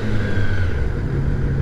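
A 2021 Kawasaki ZX-10R sport bike runs at speed with its quick shifter in use, giving a steady, close engine drone with wind rumble and no distinct break at a shift.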